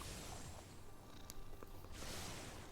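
An elemental cat pet in the MTG Arena card game purrs softly and continuously, a faint low rumble with a few small chimes and clicks over it and no talking.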